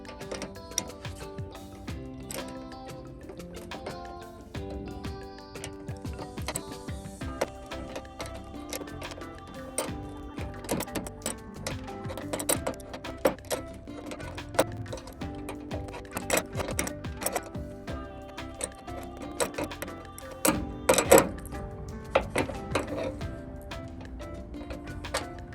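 A ratchet cranks down a bolt on a tailgate assist shock of a 2009-2018 Dodge RAM 2500 truck, a steady stream of close, rapid clicking and ticking with metallic knocks throughout.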